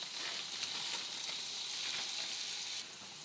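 Tomato sizzles and crackles steadily in a hot pan for a paneer egg scramble, a dense, even frying hiss that runs close and continuous with no talking.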